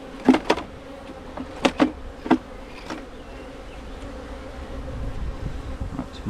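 Honeybees swarm around a hive during an inspection, a steady close buzzing hum broken by a few sharp loud bursts early on.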